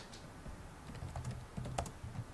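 Quiet, close typing on a computer keyboard, a steady run of soft key clicks with no voices.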